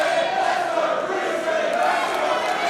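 Steady, loud roar of a split wrestling crowd at a Defiant Wrestling women's division championship match, with continuous cheering and chanting and no pauses across the span.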